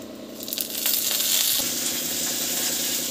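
Mustard seeds and cumin sizzling in hot oil: a steady frying hiss with a few sharp crackling pops at the start, continuing evenly close by.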